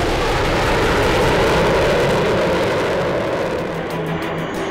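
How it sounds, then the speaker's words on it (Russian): A MiG-35 fighter jet climbs steeply upward, a loud, continuous roaring engine rush that holds steady throughout before easing slightly toward the end, with no voices. "Истребитель свечой уходит в небеса."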